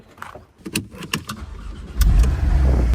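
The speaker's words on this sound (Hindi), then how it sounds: "इस गाड़ी को ना सुबह सुबह अच्छे चला सकते हैं" A car on an open morning road, its engine rising into a steady low rumble and road roar after a few quieter knocks and rattles; close and fairly loud, with no talk.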